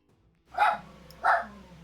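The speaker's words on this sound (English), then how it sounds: "the dogs bark" A dog barks twice, about half a second apart, close and fairly loud against a quiet background.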